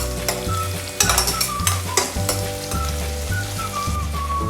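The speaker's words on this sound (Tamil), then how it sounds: "எல்லாத்தையும் சேர்த்து நல்லா வதக்கிக்கலாங்க." Onions, green chillies and curry leaves sizzle and fry steadily in a pan, with a spoon stirring and scraping in bursts over the continuous crackle, close and fairly loud, while light background music plays.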